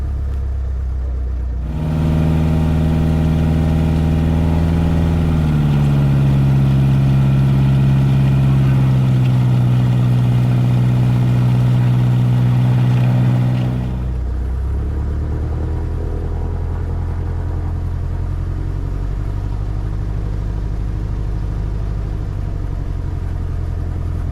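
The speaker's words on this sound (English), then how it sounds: "So here I'm taxiing into position, just getting used to using my feet with the tail down" A small tailwheel training airplane taxiing into position, its piston engine starting up loud after a brief quiet, droning steadily with a slight pitch dip, then easing to a lower rumbling idle for the rest.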